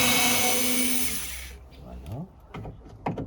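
Small electric screwdriver running with a buzzing whine for about a second and a half, then stopping, followed by a few brief knocks and handling sounds nearby.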